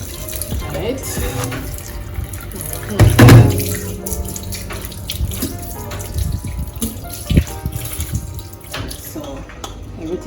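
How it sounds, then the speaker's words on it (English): Raw chicken is washed under a running kitchen tap while preparing a Jamaican chicken dish. There is a steady splash of water, with a louder gush partway through and a few drips and clatters, under some talk. "Wash my chicken nice. Yeah. Make sure to wash everything properly."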